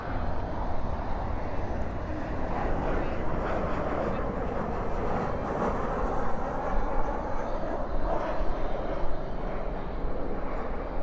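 Airliner landing at night at DFW with spoilers deployed and thrust reversers roaring, a steady, loud broadband rush of engine noise holding for several seconds.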